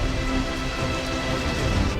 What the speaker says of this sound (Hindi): मॉनसून के टाइम पर यहाँ आपको सुबह से लेकर शाम तक सिर्फ बारिश देखने को मिलती है